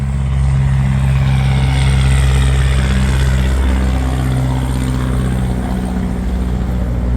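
A farm tractor passes along a busy road near a motorway junction, its deep engine drone steady and loud throughout, with no voices.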